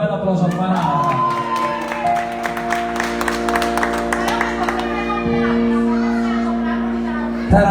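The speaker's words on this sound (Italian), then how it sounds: "Oggi è il tuo compleanno, un bel applauso a Banana." An audience at a live music show claps and cheers for a birthday, a steady mid-distance applause with scattered voices over sustained background music.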